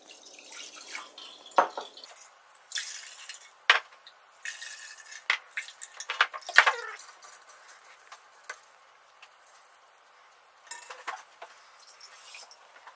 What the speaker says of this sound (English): let's drain these. Give them a bit of a rinse